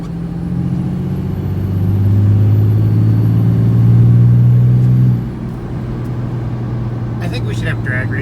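Pickup truck driving unloaded without a trailer: a steady cabin engine drone that swells slightly, then eases to a lower hum, heard from inside with faint clicks near the end.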